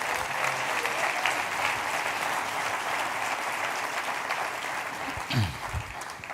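Sustained applause from a church congregation at a ministry retreat, steady and dense clapping throughout, with a brief louder swell near the end.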